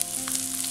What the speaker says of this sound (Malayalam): ഇനി ഇതൊന്ന് എണ്ണയിലൊന്ന് വഴറ്റിയെടുക്കാം.